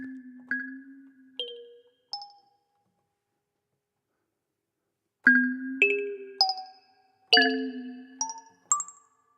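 Sparse plucked tones from the Get Weird preset of the iOS Kalimba Keys app, each note bending or sliding in pitch, played in two short runs separated by several seconds of silence, clear and alone.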